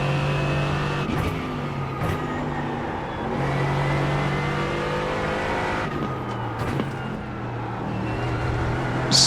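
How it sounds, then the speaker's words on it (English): Race car engine in iRacing at Road Atlanta, a steady loud drone that shifts in pitch as the car accelerates and lifts, with sharp gearchange breaks between pulls and no voice over it. "Smoothly back onto the gas."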